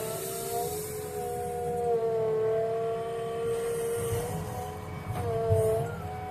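A JCB 3DX Plus backhoe loader works nearby, its bucket digging and lifting a full load: a steady engine drone carries a tonal hydraulic whine that rises and falls in pitch, with no voices.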